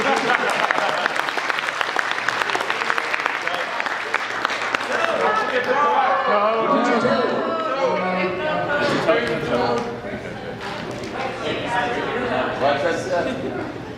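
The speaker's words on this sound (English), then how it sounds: "let's give a big round of applause for our Kennedy Lakers" A convention crowd applauds loudly and steadily, clapping blending with cheers and chatter, easing slightly toward the end.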